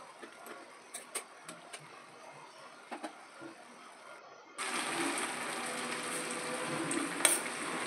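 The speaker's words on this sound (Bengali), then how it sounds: "এভাবে নাড়াচাড়া করে নিচ্ছি, নিয়ে কিছুটা কমে আসবে।" Ash gourd stirred in a pan as it cooks down, a few soft scraping strokes over quiet background before a steady, louder sizzle rises and continues, with occasional spatula clinks, no voices.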